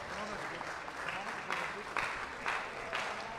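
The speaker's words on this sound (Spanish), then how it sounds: "creo que merece el fuerte aplauso de todos" Applause from a crowd at a junior racquetball championship awards ceremony, steady and moderately loud, with a few sharper bursts of clapping and some voices mixed in.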